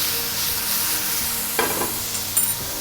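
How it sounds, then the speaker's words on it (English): Shrimp sear in a hot pan with a constant soft sizzle, broken by a couple of sharper scrapes and clinks as they are moved around, with no speech. "Let them get a nice little sear going."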